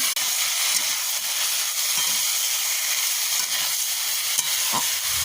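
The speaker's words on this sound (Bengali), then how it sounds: "এটা দিয়ে দিলাম, ভালো করে কষিয়ে নেবো।" Taro, potato and green mango sautéed with onion and chili in a pan, giving a steady, loud sizzling hiss throughout with occasional stirring scrapes, no voices.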